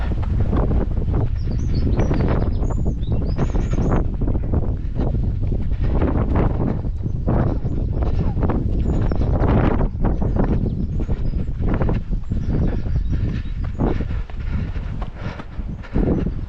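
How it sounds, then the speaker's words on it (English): Strong outdoor wind buffets the microphone near a quarry walking area, a loud continuous roar with gusting surges throughout and no voices. "it's too windy."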